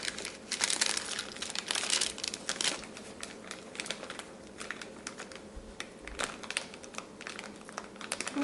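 Crinkly peeling and crackling as a baked gingerbread wall piece is pulled away from its paper backing, a steady run of close, light rustles and snaps that continues throughout with no voices.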